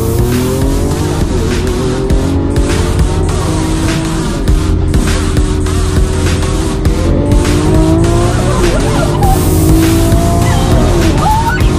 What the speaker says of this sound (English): So now the car is in Corsa mode. It's a little faster. I love the engine sound.